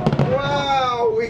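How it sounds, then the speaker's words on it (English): Disney Illuminations fireworks finale heard from aboard a Skyliner gondola: a few quick crackling bursts, then a sustained excited voice over the distant show. "Fireworks on board the gondola"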